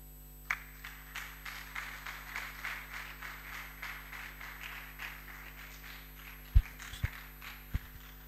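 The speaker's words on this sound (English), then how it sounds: "Let's make the applause louder." Faint, steady rhythmic clapping from a funeral service audience runs through the whole stretch, with a few sharper knocks near the end.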